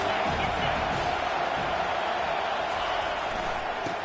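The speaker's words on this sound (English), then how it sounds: "This crowd trying to make life miserable for this offense." A college football stadium crowd roars in a dense, steady wash of noise that fills the whole stretch without letting up, while a commentator's voice is faintly present under it.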